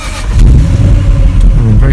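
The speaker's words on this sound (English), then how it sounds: "we start the car," A Jaguar XKR engine, its fuel lines drained for a compression test, catches and settles into a loud, close, low rumble that holds steady for under two seconds.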